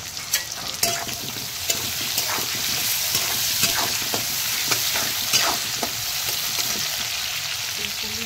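Hog plum pieces with salt sizzle in a hot pan while being stirred, a steady close frying hiss broken by frequent scraping and clinking of the spatula against the pan.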